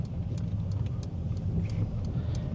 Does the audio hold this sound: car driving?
yes